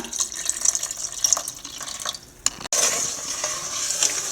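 Jaggery, dal and thin coconut milk are stirred together in a pot for cherupayar parippu payasam, giving close wet scraping and sloshing with a brief clatter midway, then a steady bubbling hiss.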